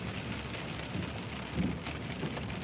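Rain heard from inside a car while driving, a steady hiss and patter with soft low rumbles and no talk, holding at an even, moderate level throughout.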